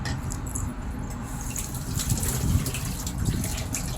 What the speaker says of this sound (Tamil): தண்ணி கொஞ்சம் ஊற்றிட்டு நல்லா கொதிக்க விடுங்க.